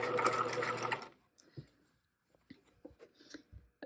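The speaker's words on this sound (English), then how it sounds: "stitch on top of it through all of the seam allowance layers and through the facing layer" A sewing machine runs in a short close, steady whir while understitching the waistband facing of a pair of shorts, then stops, leaving faint clicks and handling taps.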